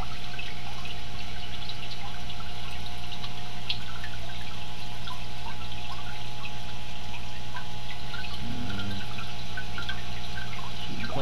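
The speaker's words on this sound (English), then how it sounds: "Shooting quite a bit of water out." A DIY aquaponics cloner pump sprays water steadily over plant cups, a constant close hiss and splatter with a faint motor hum underneath, no talking.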